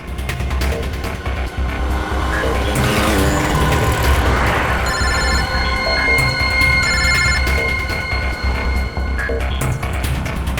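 A telephone rings in repeated electronic bursts over loud, steady vehicle and street noise, the tones starting midway and continuing to the end.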